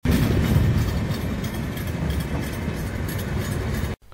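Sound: train passing on railway tracks

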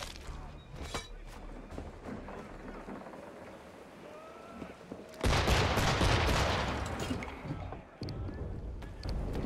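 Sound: gunfire, video game Assassin's Creed III

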